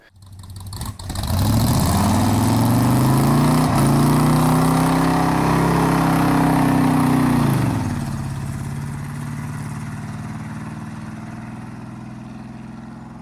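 A 1971 Chevy Nova engine runs loud and steady on a first road test, its deep harmonic drone holding and rising slightly before easing off around eight seconds into a quieter, lower idle-like hum.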